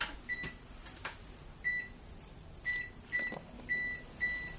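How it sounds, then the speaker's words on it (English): A kitchen oven timer beeps in a steady series of short, evenly spaced tones, fairly faint over a low room hum. "We'll set our timer for about 4 hours."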